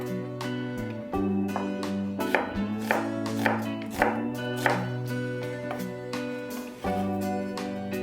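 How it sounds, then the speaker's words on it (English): A knife chops an onion into chunks on a cutting board, a series of firm, evenly spaced thuds repeating close by over a steady background hum, with no voices. "Cut the onion into chunks."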